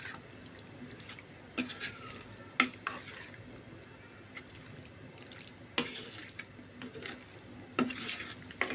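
Broiler chicken curry with spices being stirred in a pan over low flame, with soft scraping and occasional sharper clinks of the utensil against the pan over a faint background sizzle.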